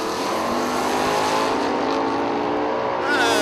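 A Mopar drag race car at a footbrake race gives a loud, close, sustained engine roar with a rising rev near the end, and faint voices can be heard.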